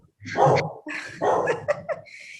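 A dog barks during a thunderstorm with lightning, giving several close, loud barks and yips in an uneven rhythm over a couple of seconds, with no talk.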